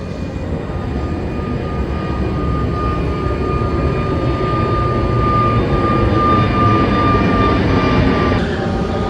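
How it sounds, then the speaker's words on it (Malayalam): A loud, steady jet engine roar from a passing airplane overhead, a sustained broadband rumble with a high whine throughout, no voices. "ഇത് ഒരു ഫ്ലൈറ്റ് പോകുന്നു."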